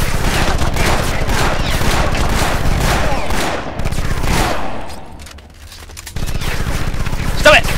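Dense, loud gunfire from the video game Afterfall Insanity: rapid overlapping shots and bursts pour out continuously, fade briefly to near quiet, then resume sharply.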